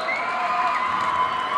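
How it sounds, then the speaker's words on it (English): Crowd noise fills a gym at the end of a girls' high school basketball playoff game, a steady wash of cheering and shouting held at an even level throughout without breaks. "This whole gym should stand up and cheer this team."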